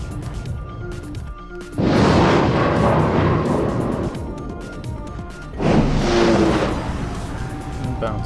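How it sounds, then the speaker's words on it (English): Naval guns from a ship in World of Warships fire two booming salvos a few seconds apart, each a loud, broad blast rolling over a steady engine-like background hum. "Fire a few more shots at him."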